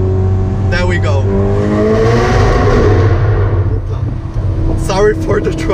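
A 2018 Ferrari Portofino revs hard in first gear inside a tunnel, its loud engine note climbing and echoing, with someone talking over it at the start and end.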